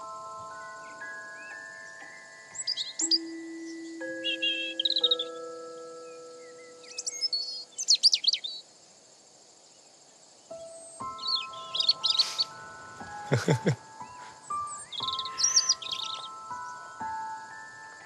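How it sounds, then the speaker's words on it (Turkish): Birds call and chirp in a forest hunting area, with clusters of bright tweets and trills at moderate distance over long sustained tonal music notes. "E, av kuşları var. Duymuyor musun?"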